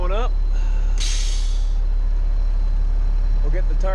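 A dump truck with a pup trailer raises the trailer bed to unload, giving a steady, loud low engine and hydraulic drone throughout, with a short air hiss and a voice talking briefly over it.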